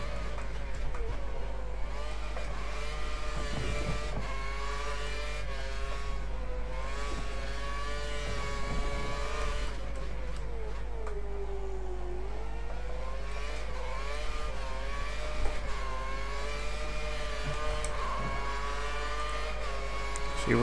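Formula 1 car engine in the F1 2013 racing game during Australia qualifying, a steady high-pitched whine with shifting pitch as revs rise and fall, loud and continuous for the whole stretch.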